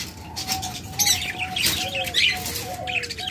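Caged cockatiels, lovebirds and budgerigars chirp and tweet close by. Short, overlapping calls and squawks arrive in quick, uneven bursts over a low background hum.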